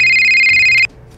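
A phone ringtone plays loud and close as a bright sustained electronic tone, then cuts off abruptly near the end, leaving a quiet room.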